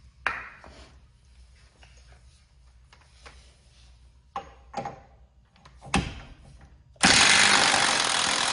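Impact wrench loosening the axle nut on a 2003–04 Ford Mustang Cobra during a halfshaft install: a loud, steady broadband hammering burst kicks in near the end after quieter clanks and taps of tools in the garage.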